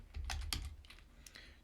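Numbers typed on a computer keyboard, a quick burst of light key clicks followed by a few scattered taps, soft and close with no talking.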